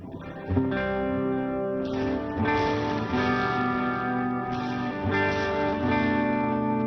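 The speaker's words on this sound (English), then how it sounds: "Here is my bass tone." A bass guitar played through a mini pedalboard with delay and reverb sounds out sustained, ringing notes that overlap and trail off in echoes, close and steady, with no talking.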